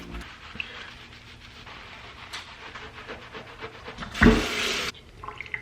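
Water runs steadily during a hair wash, with a low continuous rush, and a louder burst of spray near the end.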